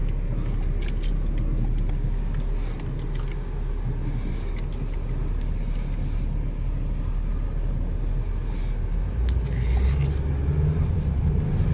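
Steady low engine rumble and road noise from inside a moving Chevy Optra after strut, CV axle and stabilizer bar repairs, with faint rattles and jangling, continuous and fairly loud.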